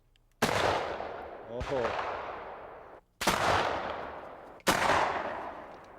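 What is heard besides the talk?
muzzleloader gunshot at axe blade target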